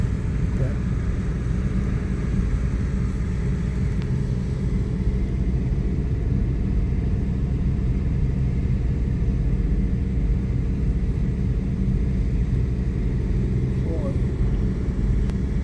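A lorry driving ahead on the new lava road on La Palma gives a steady, low engine rumble and road drone that holds evenly throughout, heard from a following vehicle, with faint voices now and then.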